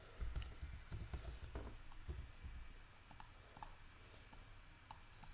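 Typing on a computer keyboard: quick runs of light plastic key clicks, close and quiet, in irregular bursts with short pauses, over a faint low background hum.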